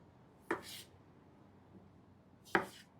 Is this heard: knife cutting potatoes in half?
yes